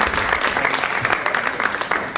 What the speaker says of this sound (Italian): E Angelica Lubian, vi prego di salutarla con un applauso, che è venuta dalla lontana Udine.